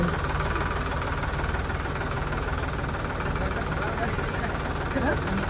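A tractor engine runs steadily at a low, throbbing idle with a constant rumble, loud and close throughout, while a boy drives it. A voice may be faintly present under the engine noise.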